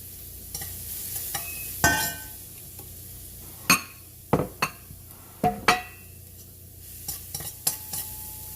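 Minced garlic sautéing in a pan for a blood stew, a soft steady sizzle broken by sharp intermittent scrapes and clinks of a utensil against the pan, close and clear with no talking.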